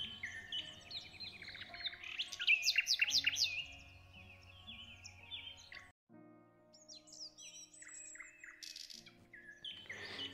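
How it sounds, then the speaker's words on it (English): Birds chirping and singing in a forest, layered bright tweets and trills, loudest in a dense burst early on, then quieter scattered calls over a steady low background. "the beautiful birds whose songs were the very fabric of the forest."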